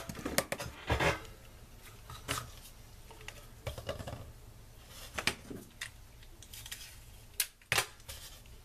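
Scissors trim a piece of paper in a handful of crisp, irregularly spaced snips, close and clear over a quiet background.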